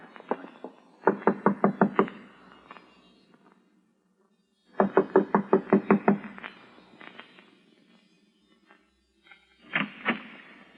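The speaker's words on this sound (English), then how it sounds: "I'm going to knock on the door now" Door knocks in a classic Ray Bradbury science-fiction radio drama: two close, loud bursts of rapid rhythmic knuckle raps, about five or six each, then a softer pair of knocks near the end, with no talk.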